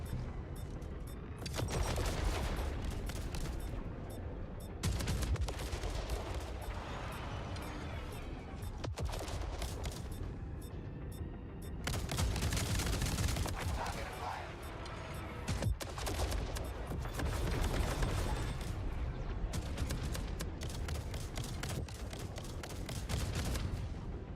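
A missile gunship fires in a video game, with bursts of rapid gunfire and booming blasts that come in dense, loud waves separated by short lulls, all heard without talk.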